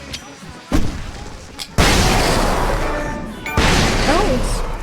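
A flashbang bursts in the video game Alan Wake Remastered, a sudden loud boom followed by sustained ringing roar and a second blast, with game sounds behind it.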